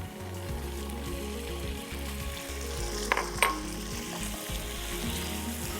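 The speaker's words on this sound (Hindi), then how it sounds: "अच्छे से इसको कर लेंगे फ्राई।" Boneless chicken thigh meat fries in a pot, giving a steady loud sizzle with a couple of brief clatters of stirring partway through and no talk.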